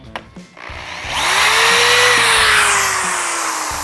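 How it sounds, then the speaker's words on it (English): A single-speed corded power drill whirs up to speed after a couple of quick clicks, then holds a loud, steady high-pitched whine close by. "this is a single speed drill"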